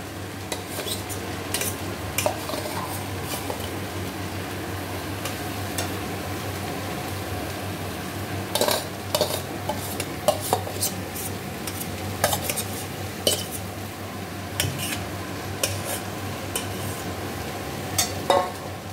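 Bhola fish stirred into cooked-down spice paste in a pan hisses softly while a utensil scrapes and clinks against the metal in irregular bursts, close and without voices.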